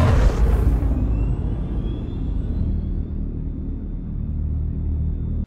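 Dodge's first electric muscle car producing its synthetic startup sound: a loud, low rumbling whoosh that sweeps in at first, then settles into a steady droning hum with faint rising whines above it.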